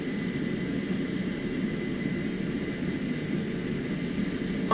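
Jet airliner engines spooling up for takeoff in Microsoft Flight Simulator 2024, a steady, loud broadband roar with a low rumble that holds constant throughout.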